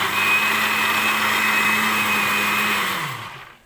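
Blender grinding homemade hummus with a spoonful of yogurt added, a loud steady motor whir with a high whine that holds for about three seconds, then spins down and stops.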